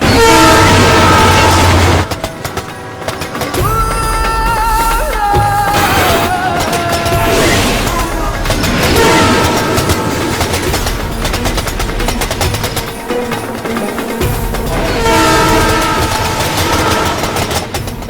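A train rumbles loudly nearby with a horn and rolling rail clatter, continuous throughout and mixed with other dramatic sound, no voices.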